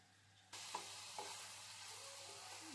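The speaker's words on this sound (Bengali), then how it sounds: "ভালো করে মিক্স করে বিটরুটটা এখন ভাজা ভাজা করা হবে" Beetroot is stirred into lightly fried, spiced vegetables in a pan. A quiet sizzle starts abruptly, and a few soft clinks and scrapes from the stirring follow.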